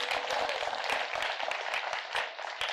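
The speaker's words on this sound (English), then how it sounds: "Round of applause for them" An audience at a city address in Savannah claps for the fountain fans in a steady, dense round of applause.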